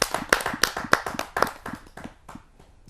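Audience applause for a satirist at a Kavi Sammelan poetry gathering, a small group clapping in quick sharp bursts that thin out and fade over about three seconds.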